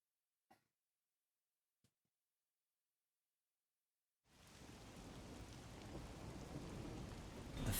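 Steady, dense rain pours in suddenly in the video game Rain Code after near silence broken by a couple of faint ticks; the downpour is loud, close and continuous with no talking.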